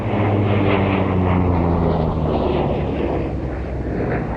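Aircraft powered by a Pratt & Whitney R2800-34W Double Wasp, an 18-cylinder air-cooled radial of about 2,100 horsepower, roars past at an airshow, a loud deep droning rumble with shifting pitch as it passes.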